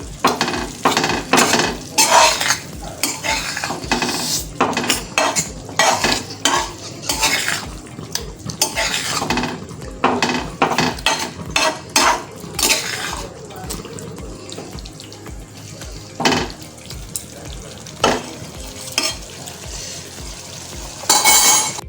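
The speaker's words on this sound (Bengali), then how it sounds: "কাজু বাটাটা ভালো করে মিশিয়ে নেব।" Cashew paste is stirred into chicken tikka masala frying in a pan: repeated scraping strokes of a spoon against the pan over a frying hiss, loud and close.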